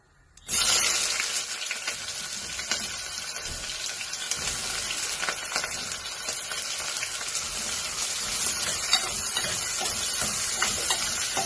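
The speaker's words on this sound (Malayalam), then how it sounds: "ചൂടായപ്പോൾ ഓയിൽ ഒഴിച്ച് കൊടുത്തിട്ടുണ്ട്. അപ്പോൾ നമുക്ക് അതിലേക്ക് ഈ സവാള ഇട്ട് കൊടുക്കാം" Sliced onions hit hot oil in a pressure cooker while making beef keema, bursting into a loud, close, continuous sizzle that holds steady without any talk.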